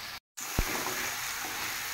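Shing fish hitting hot oil in a pan, a brief dropout then a sudden thump followed by a steady, close, broadband sizzle of frying that holds evenly to the end.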